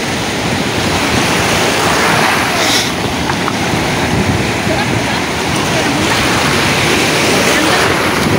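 Strong sea waves surge and wash continuously along a beach, loud and close, with wind buffeting the microphone and voices talking faintly underneath.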